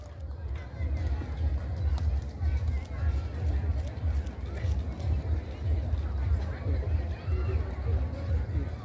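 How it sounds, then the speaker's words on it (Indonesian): A crowd claps at the closing night of an expo in Nagan Raya, a steady dense wash of applause held throughout at moderate distance, with an announcer's voice and crowd chatter mixed in. "beri aplaus yang meriah kepada pimpinan kita, Ibu PJ Bupati"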